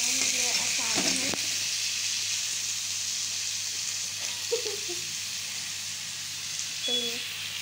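Aloo and soya badi fry in a pan under a steady sizzle, with a clatter of stirring near the start and a few brief voice-like sounds later.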